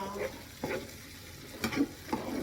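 Onions fry in a pan for mini pizzas, a low sizzle broken by a few sharp scrapes and stirring clatters as they are pushed to the sides.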